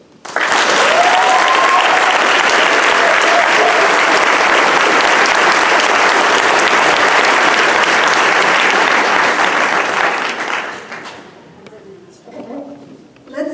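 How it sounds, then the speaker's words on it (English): An audience applauds a student speaker at a gun-control rally with a lineup of speakers, loud sustained clapping for about ten seconds before it fades to scattered noise. "Applause for Judy for doing this mic."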